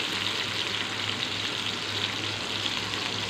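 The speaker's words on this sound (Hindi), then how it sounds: "अब अपनी प्याज को ऐड करेंगे। प्याज को हम भूनेंगे।" Onions frying in hot ghee in a pan for an aloo chicken shorba, a steady soft hiss and crackle, close and even, with no talk.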